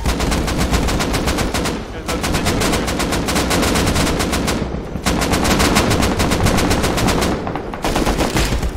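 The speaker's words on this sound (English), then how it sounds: "Someone shooting with an AK, boys." AK rifle fire during a video game raid: long sustained automatic bursts, loud and close, broken by two short pauses before resuming, with no talking over them.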